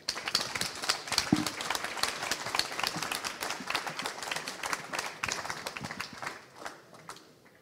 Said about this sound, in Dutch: Dus graag een luid applaus.